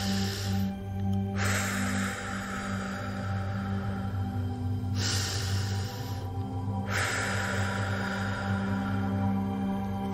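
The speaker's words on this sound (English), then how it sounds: "breathing in through the nose and then exhaling out from the mouth" Slow breathwork breaths: a long inhale through the nose followed by a long, airy exhale through the mouth, repeated twice, close and clear over a soft sustained background drone.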